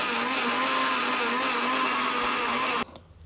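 A mixer grinder blends peeled mango pieces with half a cup of creamy milk, giving a loud, steady motor whine that runs continuously and then cuts off abruptly near the end.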